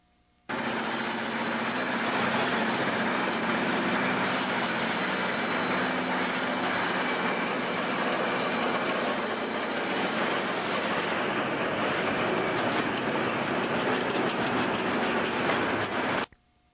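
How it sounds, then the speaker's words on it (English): A heavy freight train hauling a load of pipe uphill rumbles past at close range for a long stretch, steady and loud, with clattering wheels and a faint metallic squeal. "let's watch as a train pulls a load of pipe up a hill."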